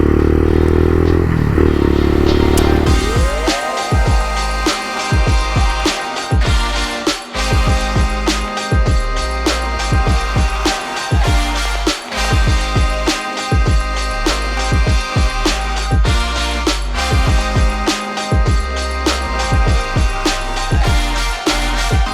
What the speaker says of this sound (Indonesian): Ini adalah Kawasaki W175 Custom Chopper Bekasi punya.